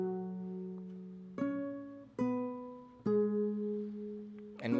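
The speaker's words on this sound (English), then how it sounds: "layer another guitar on top of it that would be the same notes but played an octave higher" Guitar melody doubled by a second guitar playing the same notes an octave higher: four plucked notes held and ringing, close and fairly quiet, with a fresh attack at the very end.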